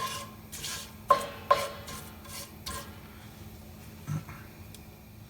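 Curry leaves frying in the same pan used for Indian-style fried fish, with several sharp scraping stirs and a low sizzle running underneath, close and fairly quiet.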